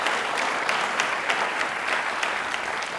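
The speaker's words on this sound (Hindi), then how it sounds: "प्लीज एक बार वापस से तालियां जोरदार होनी चाहिए इनके लिए" A studio audience on a general knowledge quiz show gives steady, dense applause, with many hands clapping evenly and brief sharper claps standing out from the wash.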